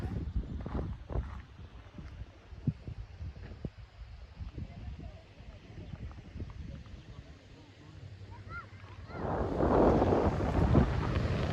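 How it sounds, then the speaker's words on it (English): Wind blows across an open Cyprus hillside, buffeting the microphone in gusts that swell louder toward the end, with people talking underneath. "A little bit windier this side."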